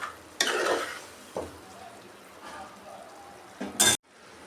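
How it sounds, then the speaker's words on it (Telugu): Cooked rice is tossed and fried in spiced tomato purée, heard as soft sizzling with a few distinct stirring scrapes and a sharp clatter of the utensil against the pan just before the sound cuts off. "ఇలా రైస్ ఫ్రై చేసుకోవాలి టమాటా ప్యూర్లో"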